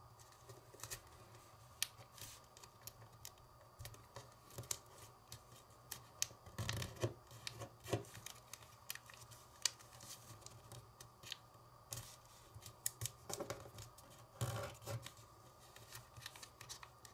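Origami paper being flattened and folded by hand, with soft crinkles, rubs and scratchy creasing taps close by, irregular and quiet throughout with no talk.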